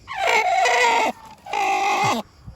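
An old Chinese hen gives two drawn-out, nasal calls in quick succession, loud and close, each rising then trailing off, with a brief pause between.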